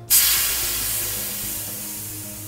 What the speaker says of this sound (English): Then you have to thread up this little nut to allow you to deflate the tire.